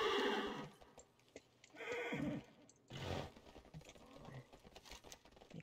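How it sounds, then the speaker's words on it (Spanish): A horse mount summoned in World of Warcraft whinnies in a few short bursts, with game effects and ambience filling the gaps between neighs. "Vamos a sacar mi caballo que me da más confianza en estos territorios."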